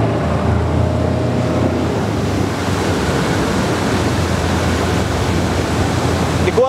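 A Mercury 150 Pro XS outboard motor drives a boat planing slowly on open water, a steady broadband rush of engine and water spray filling the whole stretch with no talk.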